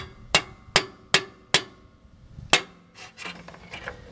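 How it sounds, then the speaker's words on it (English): Rubber mallet smacking a wooden dowel against a flange while installing a block-off plate on a Toyota/Lexus 5.7L engine: four sharp, evenly spaced knocks, then a louder fifth hit followed by fainter tapping and scraping. "usually just a couple smacks with the rubber mallet"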